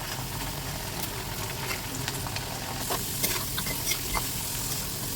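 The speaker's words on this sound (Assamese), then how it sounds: "তেলখিনি গৰম হোৱাত এতিয়া মই আলুখিনি ফ্ৰাই কৰি ল'ম।" Potato pieces frying in hot oil as a raw banana (kaskol) sabji is prepared, giving a steady, dense sizzle throughout with occasional light crackles and pops, close and even in level, with no talking.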